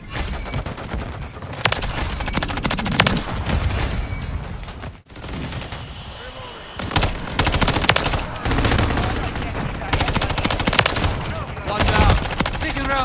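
Dense automatic and machine-gun fire from a Call of Duty: Modern Warfare 3 match, loud bursts of rapid shots close by, broken by a brief gap, then sustained volleys with explosions and battle noise.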